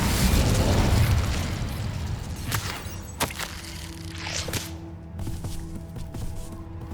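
Incendio fire spell in Hogwarts Legacy: a loud burst of flame with a roaring, rumbling onset that settles into crackling pops and sharp snaps, followed by softer mechanical clinks and a faint tonal hum.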